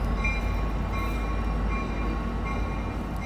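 An Amtrak San Joaquin passenger train rumbles steadily nearby at Oakland Jack London Square station, a continuous low roar of wheels and engine rolling in without pause.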